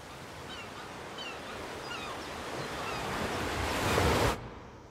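Sea waves from an animated series wash and break in a steady surf, with wind noise building toward a louder crash near the end before the sound cuts off abruptly.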